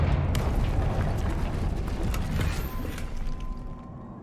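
Confringo fire spell cast in Hogwarts Legacy, a loud sustained rumbling blast that booms up front and rolls on for several seconds over dense game background noise, slowly thinning toward the end.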